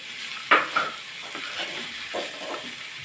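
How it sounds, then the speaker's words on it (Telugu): Carrots fry in a pan with a soft steady sizzle and hiss, broken by a few brief stirring scrapes near the start. Close and fairly quiet, with no voices. "ఇప్పుడు ఈ క్యారెట్ని కూడా బాగా వేగనివ్వాలి"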